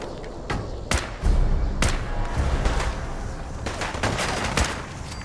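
Gunfire in the video game Fallout 4: sharp, loud reports crack out in uneven bursts, some close together, over a rumbling, thudding background of combat.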